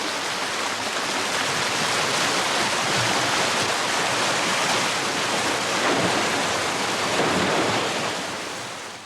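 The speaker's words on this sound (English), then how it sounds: "then gradually released to form the many tumbling streams" Rain-fed streams tumble through a forest, a dense broadband rush of flowing water that holds steady and loud for several seconds before easing slightly, with no voices.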